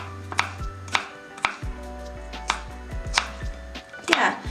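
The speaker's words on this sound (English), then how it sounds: "I think I'm done chopping it." A knife chops an onion on a cutting board, giving about ten sharp, uneven knocks at a brisk rhythm, close and clear, with the last strokes quicker and scraping.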